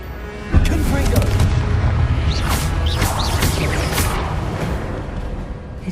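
A Confringo fire spell blasts in Hogwarts Legacy, a loud, dense explosive rumble with crackling bursts that sustains throughout at high level.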